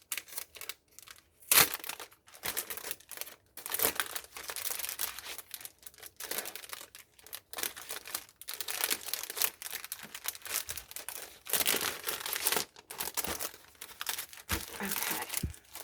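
Craft supplies from a Temu haul are pushed back into crinkly paper wrapping, producing repeated close, sharp crackling and rustling bursts with short pauses between handlings.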